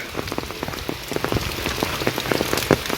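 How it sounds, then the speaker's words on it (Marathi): Heavy unseasonal rain falls steadily on wedding canopies in the Konkan, with dense drops pattering and splattering on hard surfaces close by. "जसं पावसाळ्यात पाऊस पडतो ना तसा पाऊस पडायला लागलाय आहे हे बघा अवकाळी पाऊस"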